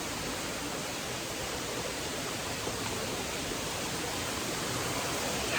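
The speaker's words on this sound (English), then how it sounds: "There's the waterfall down there." Steady rushing roar of a waterfall inside a tropical plant greenhouse, broadband and constant, filling the space with no voices.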